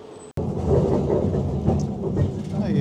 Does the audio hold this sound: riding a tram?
yes